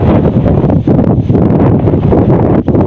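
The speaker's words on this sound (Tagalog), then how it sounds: "talagang hirap lang talaga sa hangin kasi medyo may kalakasan na hangin" Strong wind buffeting an outdoor microphone, a loud, continuous rough roar with gusty swells and brief dips, no voices.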